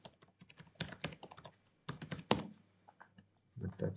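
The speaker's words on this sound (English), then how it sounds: "Write the URL. Let me write my own web page." Quick bursts of clicky keystrokes on a computer keyboard as a web address is entered, coming in uneven clusters with short pauses between them, close and clear.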